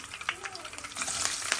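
Mustard seeds, cumin and curry leaves sizzle in hot oil in a pan for tempering, a close, continuous crackling hiss with small pops and stirring scrapes.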